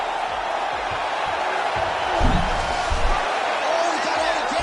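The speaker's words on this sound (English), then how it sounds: "big pop from the crowd as they get back to their feet after a pretty scintillating grappling battle there on the ground" A crowd cheering in the UFC 5 game after a grappling exchange, a steady broad arena roar that swells briefly in the middle, with a commentator's voice running underneath.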